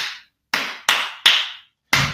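A teacher claps a rhythm during an improvisation exercise: four crisp, close hand claps in an uneven pattern, each ringing briefly into a quiet room, alone with no voices.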